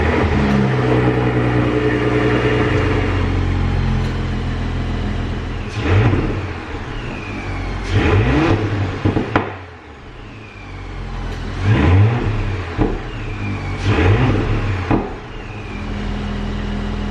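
A Mercedes C63 AMG 507 engine revs repeatedly in short bursts over a steady idle, with crackling pops from the exhaust between revs.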